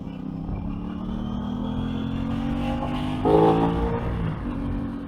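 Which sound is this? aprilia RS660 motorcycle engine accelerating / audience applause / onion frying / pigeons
aprilia RS660 motorcycle engine accelerating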